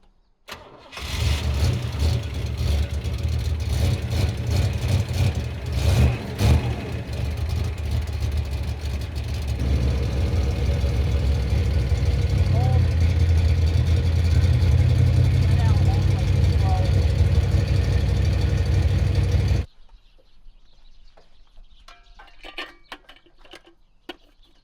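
A rebuilt 1985 IROC Camaro 305 V8 with freshly retarded timing fires up and runs loud and steady at close range for most of the stretch, then cuts off abruptly, leaving quiet background sounds.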